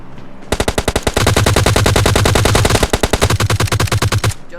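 Sustained automatic gunfire from PUBG Lite on the Sink Delta map, a loud rapid rattle of shots firing in two long bursts with a brief break, followed by a few slower spaced rounds.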